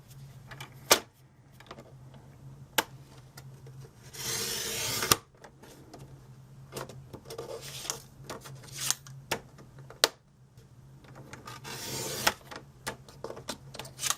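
Rotary paper trimmer slicing through a stack of four cardstock sheets, with two broad rasping swipes of the blade and scattered clicks and shuffles of the paper being handled, close and fairly quiet.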